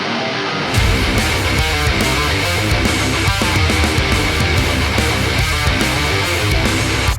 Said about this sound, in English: how I use EQ to get my heavy distorted guitar tracks to sound like this.